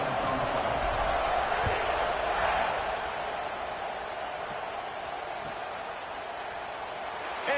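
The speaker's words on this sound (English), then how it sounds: "this crowd is buzzing after that last score" Steady roar of a football stadium crowd buzzing after a touchdown and successful extra point, a broad continuous wash of distant voices holding level throughout with no single voice standing out.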